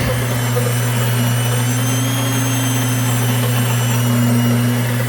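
A steady, loud motorized whine with a low hum runs throughout, like a grain mill grinding continuously, no voices.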